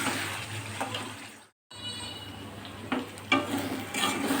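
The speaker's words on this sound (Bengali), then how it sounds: "মশলা ভাজতে ভাজতে আমার পেঁয়াজটা গলে যাবে।" Onion cooking down with masala in a pan, stirred without extra oil: a steady close sizzle under scraping strokes, broken by a brief silent gap, then resuming with louder scrapes and clatters near the end.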